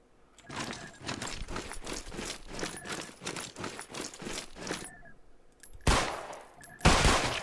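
Gunfire in the Roblox special forces simulator: a rapid string of evenly spaced shots for several seconds, then a pause and two louder, sharper bursts near the end.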